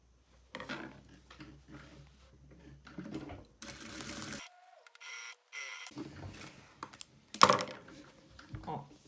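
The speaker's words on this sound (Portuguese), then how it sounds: "vai passar uma costurinha com o pezinho de máquina da mesma forma que a gente fez lá" A home sewing machine stitches fabric for a small zippered pouch using the presser foot, sounding in short, close whirring runs between clicks and handling noises, with a pause of near silence partway through.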